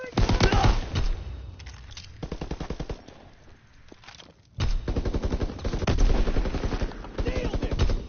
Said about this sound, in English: They're moving! Need covering fire!